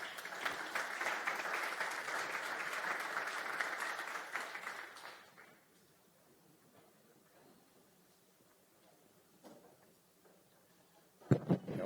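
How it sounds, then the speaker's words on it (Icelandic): Audience applause at a public meeting on climate adaptation, welcoming Iceland's environment, energy and climate minister to the stage; steady clapping for about five seconds, then it dies away into quiet room noise with a sharp knock near the end. "Við skulum bara gefa honum gott klapp"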